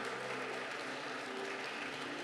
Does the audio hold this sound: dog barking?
no